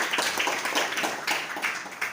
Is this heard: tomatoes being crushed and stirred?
no